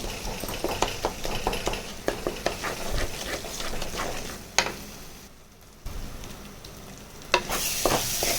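Masala and tomato sizzle as they are stirred in a pan for radish chicken kurma, with steady frying crackle, scraping of a spoon against the pan and a brief quieter pause before the sizzle returns.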